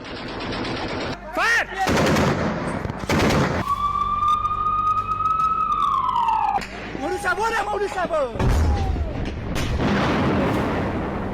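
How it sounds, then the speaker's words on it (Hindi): Bursts of Taliban fighters' gunfire in news report footage of Afghan–Pakistan border fighting: rapid, loud automatic volleys with single cracks, broken by a wavering siren-like tone. "हेलमंद से लेकर कंधार तक तालिबान की बंदूकें गरज रही हैं।"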